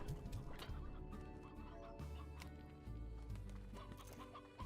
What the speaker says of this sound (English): Oh, there's an elder hen.